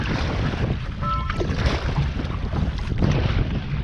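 Wind gusts buffet the microphone out on the water while a kayak is paddled on a breezy day. The noise is loud, broadband and continuous, with a few faint splashes and knocks mixed in and no talking.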